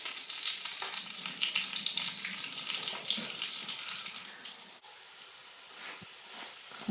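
Chicken nuggets frying in a pan give off a steady, crackling sizzle with bright spitting bursts that soften into a calmer hiss, close up and with no talk.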